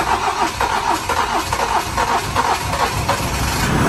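A car that has sat unused for eight months cranks and starts, its engine turning over in loud, uneven bursts that run steadily throughout, close to the listener with no voices over it.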